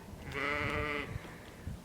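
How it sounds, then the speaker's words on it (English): A sheep on a small farm bleats once in a clear, sustained, moderately loud call, followed by faint rustling background noise. "Our sheep and our lamb get along really well. There she is. She's calling you."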